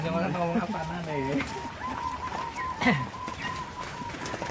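Zebra doves (perkutut) coo in a farm setting, giving soft repeated warbling calls over a background of other birds and general ambience, moderately close.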